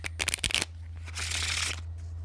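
A Bicycle deck of playing cards is handled and shuffled close up: a few sharp card snaps and taps, then a longer soft riffling whir that fades out over a steady low hum.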